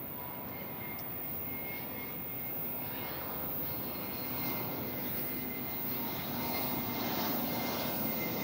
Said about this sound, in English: Take a look at this Delta flight coming in.